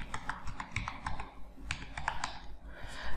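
Rapid keystrokes on a computer keyboard as a ration card number is typed in, a close, steady run of clicks with no talking.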